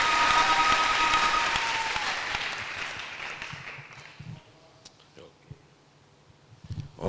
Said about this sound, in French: Alors acclamez le Seigneur pour cela.